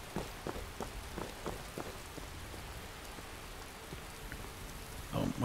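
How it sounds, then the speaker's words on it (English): Steady video game rainfall in modded Skyrim patters continuously, with a few distinct drips tapping at the start and a louder splash near the end. "It would be raining."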